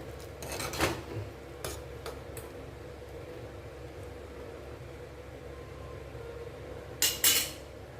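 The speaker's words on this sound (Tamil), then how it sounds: "அப்பப்போ நடுவில் நடுவில் வந்து கலந்து போட்டுக்கணும்" A spoon scrapes and clinks against a pot of mango, jackfruit seed and drumstick curry in a few short, close stirs, with quiet gaps between them and a bright clatter near the end.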